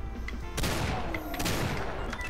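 Gunfire in The Golden Souls Remastered, a retro shooter game: rapid, loud repeated shots crackle in a steady barrage for the whole short burst, with no talk.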